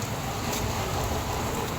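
Heavy rain pours steadily on a road at a mining site, a dense constant hiss with no break and no voices.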